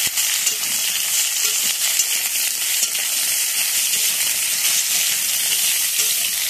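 Drumsticks and bitter gourd frying in a pan while being stirred, a steady bright sizzle with soft scraping stirs throughout, close and continuous with no talk.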